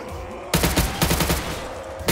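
A full-auto AUG rifle fires in Call of Duty custom zombies on a Walking Dead Alexandria Sanctuary map: a loud, rapid string of shots starting abruptly after a moment of game ambience, with no talking.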